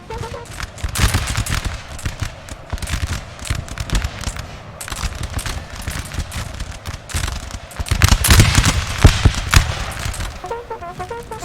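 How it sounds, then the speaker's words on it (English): Massed musket volleys from French infantry in a Napoleonic battle in Napoleon Total War crackle in dense, overlapping bursts, swelling loudest near the end, with a commentator talking over them. "Gorgeous volleys going off from the French"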